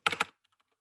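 Quick burst of keystrokes on a computer keyboard, a few close clacks followed by fainter soft taps, very short and alone.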